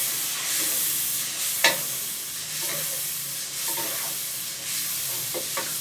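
Chicken karahi cooking in a pan with turmeric and dried coriander, stirred by hand: a steady sizzling fry with several distinct scraping stirs of a utensil spaced through it, close and moderately loud, with no talking.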